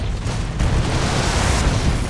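Straight cannon rocket shot in Broforce, a dense rumbling explosive roar that fills the whole moment with a slight surge partway through, loud and alone.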